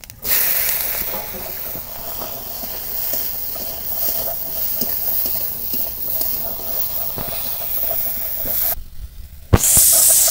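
Crabs frying in hot oil in a heated wok with five-spice tempering give a steady, loud hiss and sizzle with occasional stirring clicks, breaking off briefly near the end before resuming.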